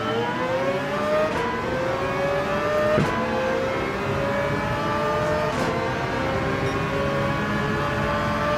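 A Mazda race car engine in Gran Turismo 7 revs steadily and loudly with sustained harmonic whine, rising and shifting pitch through gear changes, alone without talk.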